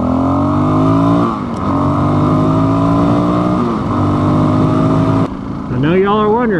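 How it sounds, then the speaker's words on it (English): A Suzuki DR-Z400S motorcycle engine hums at a steady, close and fairly loud pitch, dipping briefly twice, then cuts out near the end as a voice is heard. "I'm riding a DR-Z400."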